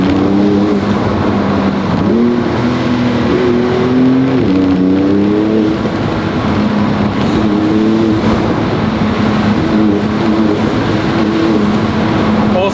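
A Porsche 911 (992) Turbo S with twin turbos drives through a forest, its exhaust a steady, moderately loud engine drone that rises and falls with shifts and acceleration over about thirteen seconds.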